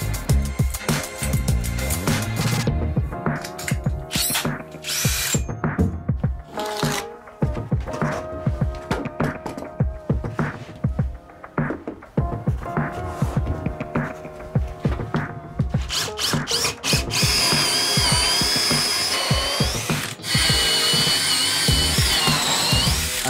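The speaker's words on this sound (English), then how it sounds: "what I have is a Bosch Expert 38mm hole saw that I can get those drilled." A Bosch Expert 38mm hole saw bores holes through a wooden board, giving loud, sustained power-tool whirring and grinding with repeated bursts as the cutter bites and stops.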